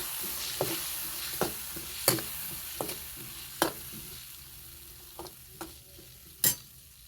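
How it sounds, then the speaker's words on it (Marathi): Spices with red chilli powder sizzle steadily in a hot pan while a utensil scrapes and clacks against it in irregular strokes, close and clear with no talking. "मसाले चांगले परतून घेऊ"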